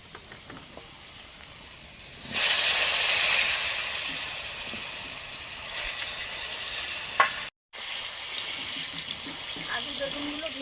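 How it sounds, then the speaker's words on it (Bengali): Potatoes go into hot oil in a pan and set off a sudden loud sizzle that holds steady and slowly eases, with a brief break near the end, after a quiet start. "আলুগুলো আগে একটু ভাজছি, বেগুনগুলো একটু পরে দেবো।"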